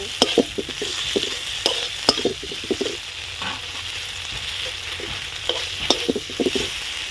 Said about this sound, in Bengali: আর শুকনো লঙ্কা বাটা একটু ভালো করে ভেজে নেব